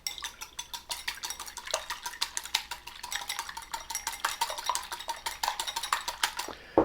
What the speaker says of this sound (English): Whisk up the eggs.